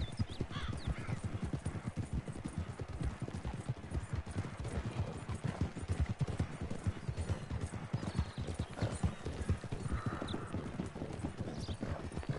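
Horse hooves clip-clop steadily in the Red Dead Online video game as a horse trails along on autopilot. The sharp, evenly paced strikes are close and continuous, with no talking over them.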